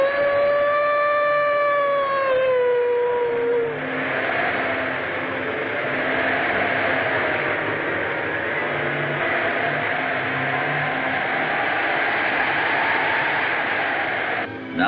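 A dog howls down by a river in a 1932 thriller, long wavering tones rising and falling for the first few seconds before blending into a sustained, siren-like wail under a steady background hum.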